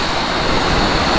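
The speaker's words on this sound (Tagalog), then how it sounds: "Ito yung ilog dito." River water at Yabo River camp in the evening cold, a steady broadband rush of flowing current that stays even and close throughout, with no voices.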